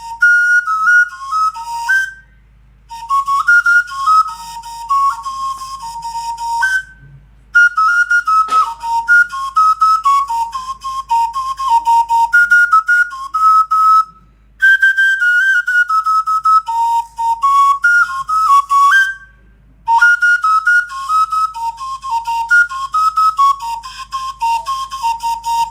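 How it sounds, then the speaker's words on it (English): A flute plays at a New Yam Festival celebration, with bright, ornamented high melodic phrases in repeated runs separated by short silences, loud and close, with a low steady hum beneath. "A flutist added rhythm to the celebration, filling the air with the soothing sound of the flute"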